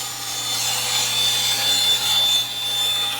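A strip of wood being ripped on a saw, a steady close hissing, rasping whine held evenly throughout with a low constant motor hum underneath.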